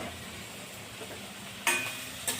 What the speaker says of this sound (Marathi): आता आपण 5 ते 10 मिनिट कांदा व्यवस्थित परतून घेणे।